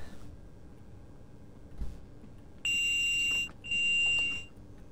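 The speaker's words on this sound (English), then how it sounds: "that's just the opposite doors beeping." Electronic door warning beeps on a DB BR 1442 Talent 2 train in a video game: two sustained high-pitched tonal bursts of about a second each, loud and clear over faint cab ambience.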